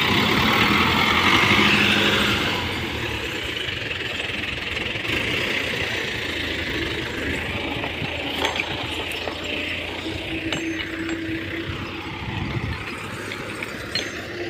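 A tractor engine runs steadily and fairly close, with a mechanical clatter and ratcheting knock over a low rumble, heard alone without talk.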